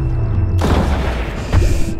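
Gunfire in the game Dave the Diver: two sharp, loud shots roughly a second apart, each with a short booming tail, standing alone with no talk.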